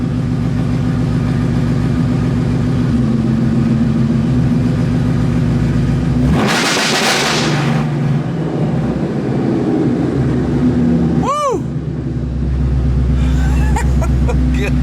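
Whipple supercharged 2016 Mustang held on a two-step launch limiter at 2,500 RPM, a loud close throbbing engine punctuated by a sharp burst of bangs and pops, then a high whoosh before dropping back to a rumble.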